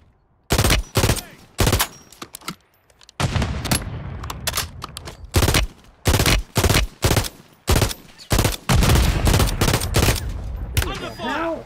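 Call of Duty video game gunfire in loud, close automatic bursts and rapid volleys, separated by brief gaps throughout.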